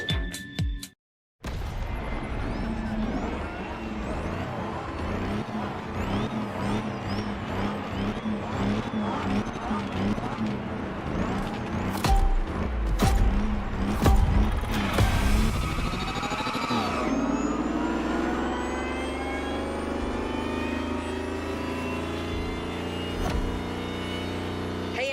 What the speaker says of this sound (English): it's going to have a special sonic signature to replace the roar of the V12 engine that Lamborghini is so well known for